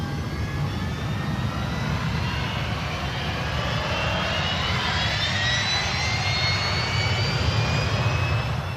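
Aircraft engines are run up to full power, a loud, steady roar with a rising whine that climbs gradually throughout, continuous and close with no speech.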